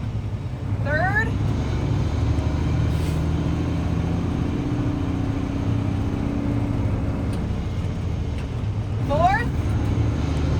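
A heavily loaded truck pulling away on the road and working up through the gears, a steady low engine drone heard from inside the cab with faint squeaky sounds around it.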